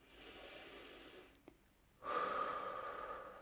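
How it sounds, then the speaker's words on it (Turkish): A single deep breath is drawn in softly, then after a brief pause released as a loud, airy exhale that carries on steadily, heard close and alone without talk. "derin bir nefes alın. Nefesi kalbinizden dışarı verin."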